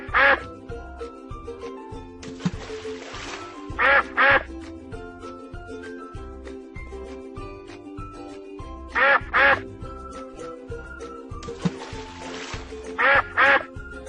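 A cartoonish duck quacks in short paired bursts, loud and close, repeating a few times over a bouncy children's song.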